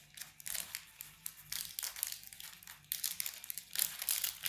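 A Pokémon card booster pack wrapper is opened slowly, giving close, repeated bursts of crisp foil crinkling and crumpling with short pauses between handlings.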